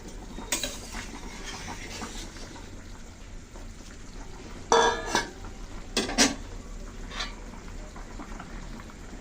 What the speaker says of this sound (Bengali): আর দিয়ে দিচ্ছি ভেজে রাখাগুলো মাছগুলো